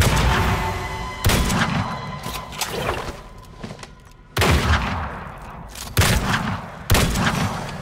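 Shotgun blasts ring out in the video game Weird West, several loud broadband booms spaced irregularly over a noisy battle background, each cutting off sharply, with no talk.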